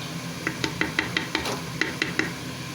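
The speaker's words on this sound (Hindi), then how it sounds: "थोड़ी सी इस दही की भुनाई करेंगे मसालों के साथ।" Yogurt with spices fries in oil for aloo gosht, a mutton and potato curry, with a soft sizzle under a regular series of sharp spoon clinks and scrapes against the pot.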